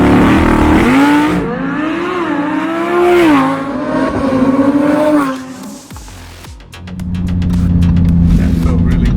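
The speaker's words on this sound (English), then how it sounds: "this, guys, is VF Engineering's Huracan Performante Supercharged 850 horsepower beast" A VF Engineering supercharged 850-horsepower Lamborghini Huracan Performante accelerates hard, its loud engine climbing and holding through gear changes before dropping to a lower drone, heard close from inside the car.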